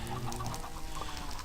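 Chickens in a farm yard clucking repeatedly at moderate distance, a busy run of short clucks over a low background rumble.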